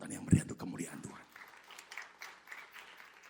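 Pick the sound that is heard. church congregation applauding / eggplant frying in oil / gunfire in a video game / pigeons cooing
church congregation applauding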